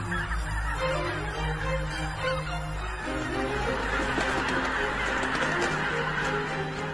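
Geese feeding in the Biebrza valley wetlands honk repeatedly in a noisy flock, layered calls overlapping from near and farther off, continuous throughout with no talk.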